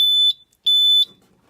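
A fire alarm control panel sounds its system trouble signal: two loud, piercing electronic beeps, each lasting about a third of a second, in a quiet room.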